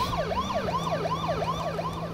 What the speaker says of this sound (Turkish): Sireni açayım da daha çabuk gidelim.